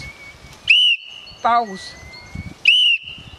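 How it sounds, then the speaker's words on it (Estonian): A whistle blown as a signal in a forest, sounding two loud, sharp, sustained blasts about two seconds apart, with a short spoken word between them. "Kuidas saab inimene ennast metsas kuuldavaks teha? Vilistades, just. Mitu korda ma peaks vilistama? 3."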